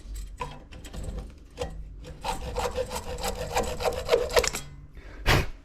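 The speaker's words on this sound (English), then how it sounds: "I'm just going to get a hacksaw blade and cut through there" Hacksaw blade cutting through a fuel pump part during an aftermarket fuel pump install on a BRZ/86, with rough rasping strokes close by that come in uneven bursts and pauses.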